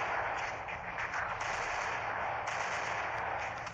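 Continuous rapid gunfire from the mobile shooter game Point Blank Mobile, dense and steady throughout with no pauses, with no talk over it.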